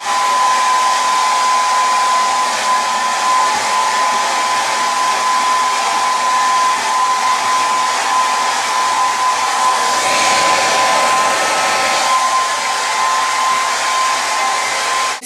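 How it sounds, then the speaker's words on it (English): A hair dryer blows hair dry, switching between hot and cold settings, with a loud steady whine and rushing airflow held close and continuous throughout, slightly shifting in tone partway through, with no talking. "blow it dry, alternating between hot and cold, hot and cold"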